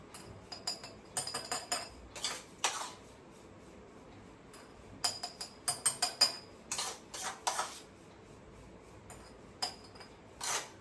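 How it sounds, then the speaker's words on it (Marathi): Repeated light clinks and scrapes of a spoon against a glass jar as raw mango pickle is spooned in, coming in quick bursts, pausing and resuming, close by in a quiet room. "मी आता हे बरणीत भरते."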